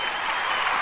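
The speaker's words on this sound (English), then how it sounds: "more applause." Brief burst of steady applause, likely a sound-button effect on a talk show, filling the clip evenly at moderate loudness with no voices over it.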